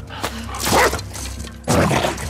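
Dog barks in The Last of Us Part 2 gameplay, two loud bursts at the start and end of a short stretch over game background noise.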